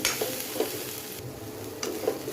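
Peanut sundal made with fresh peanuts is tossed and stirred in a hot pan, a close sizzle with a few scraping strokes of the spatula.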